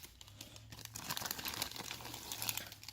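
Plastic packaging of a Bandai Figure-rise Masked Rider model kit crinkles and rustles close up, with crisp crackling bursts and tearing sounds over a few seconds, no voices.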